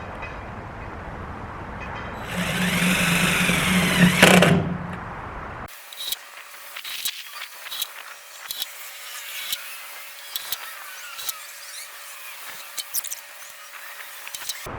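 Power drill driving screws into the aluminum roof of a ProMaster van: a loud whirring drive first, then a long run of quieter clicks and short mechanical bursts.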